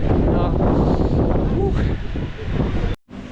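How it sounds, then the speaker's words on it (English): Strong wind buffets the microphone high on a mountain at Sapa, a steady broadband roar that dips and briefly cuts out near the end. "It is quite windy"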